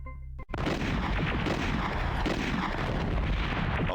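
Grenades detonating in the Aliens: A Comic Book Adventure video game, a sudden burst after a brief gap that swells into a loud, continuous roar of explosions and rumble filling the rest of the moment.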